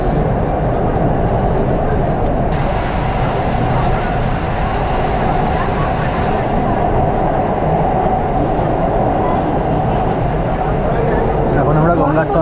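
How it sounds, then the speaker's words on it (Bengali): A Kolkata metro train rumbles loudly and steadily through the tunnel under the Ganges after leaving Mahakaran station, a continuous roar of wheels and motors heard from inside the carriage. "ট্রেন আমাদের মহাকরণ স্টেশন ছেড়ে দিল। এবার আমরা যাবো হলো গঙ্গার তলা দিয়ে।"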